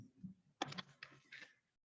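Short burst of clicking keystrokes on a computer keyboard while typing SQL code, a few clustered key taps in quick rhythm, close and fairly faint, with no talk.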